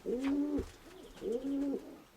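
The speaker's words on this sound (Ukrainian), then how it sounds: "Це Валерина голубка" A pigeon coos twice in close succession, soft, throaty rolling calls heard up close with no other sounds.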